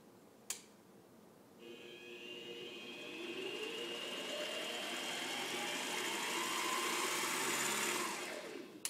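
A mini lathe motor, fitted with a bed extension kit, starts after a sharp click and runs forward with a steady, close electric whine and hum for several seconds before cutting off.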